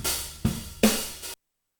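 Acoustic drum kit with more of the old snare left in the overheads, a replacement snare sample layered on top; two or three ringing, roomy drum hits with washy cymbal spread, cut off abruptly.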